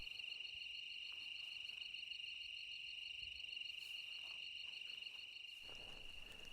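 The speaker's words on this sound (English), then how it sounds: "There are so many crickets and bats out right now." Dense, continuous high-pitched trilling of many crickets at night at a desert mountain campsite, steady and unbroken, with faint low rustling beneath.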